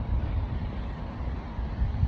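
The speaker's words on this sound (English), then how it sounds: "Wind." Wind buffets an outdoor microphone, giving a low, rumbling, fluttering roar with gusty swells throughout, and no clear speech over it.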